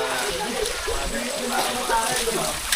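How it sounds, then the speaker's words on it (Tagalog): River water flowing at Balite Falls resort in Amadeo, Cavite, a continuous nearby rushing and sloshing with light splashes throughout. "Yung may ilog."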